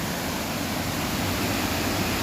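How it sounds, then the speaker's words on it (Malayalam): The Aruvikkuzhi waterfall at Thadiyoor, heard at its first tier above two or three lower drops, gives a steady, dense roar of falling water with no break or voices. "ഈ ഒരു മനോഹരമായിട്ടുള്ള വെള്ളച്ചാട്ടം ഉണ്ടല്ലോ"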